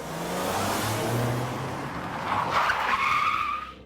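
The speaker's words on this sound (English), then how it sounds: "Tires screamed, the car skidded." A car's tires screech as it skids on a snowy road, a sustained harsh squeal that rises and sharpens toward the end over a loud, continuous engine roar and road noise, close and intense throughout.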